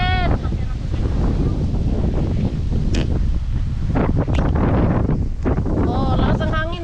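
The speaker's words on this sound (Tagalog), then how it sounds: "Ang lakas ng hangin." Strong gusting wind roars and buffets the microphone continuously on a walk to Cape D'Aguilar, Hong Kong, with a person's voice and other faint voices breaking through the rumble.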